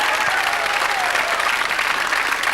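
Studio audience applause on a television variety show, a steady dense wash of clapping filling the whole stretch with no voices over it.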